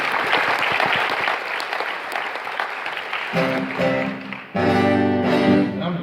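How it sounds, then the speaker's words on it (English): Applause at a closing conference keynote, loud sustained clapping from a large audience that tapers off as tonal music or instrument tones rise and take over toward the end. "Can you guys give Eva a big round of applause?"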